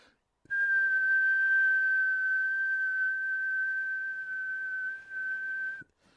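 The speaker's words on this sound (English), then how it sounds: "I'm just going to start whistling and never stop" A person whistles a single steady pure tone, held unbroken for about five seconds in a quiet room before stopping abruptly.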